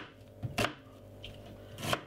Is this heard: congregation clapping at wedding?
no